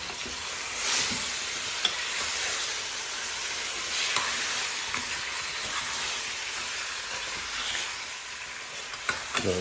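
Curry goat meat cooking in a pot for a Jamaican dish gives a steady, soft sizzle and steamy hiss, with faint stirring scrapes and small pops scattered throughout.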